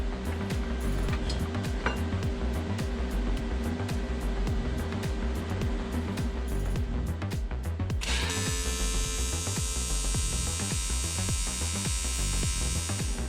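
Tack welding on the ends of a custom water box: a steady buzzing hum with rhythmic pulses, then a sudden harsh, continuous crackling hiss takes over partway through.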